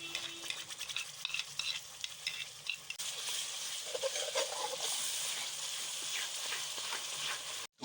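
One cup of yogurt is stirred into sizzling masala frying in a pan for a chana dal kofta curry, with soft spoon scraping and clicks giving way to a louder, continuous sizzle and bubbling up close.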